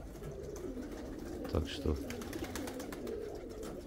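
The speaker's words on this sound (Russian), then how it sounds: "Это его голуби там." White pigeons belonging to a neighbour coo softly in the background, with two brief louder bursts near the middle, while a voice speaks briefly over them.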